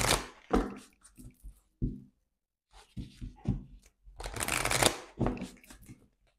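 A tarot deck is cut and riffle-shuffled up close in quick bursts of papery flutters and snaps, with short pauses between, ending in a longer, louder riffle.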